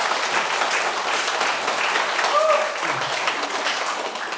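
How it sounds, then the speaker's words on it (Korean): Steady applause rises from an audience of party members at a political education meeting, broad continuous clapping that stays level for several seconds with a faint voice briefly audible within it. "다시 한번 박수를 보내드립니다"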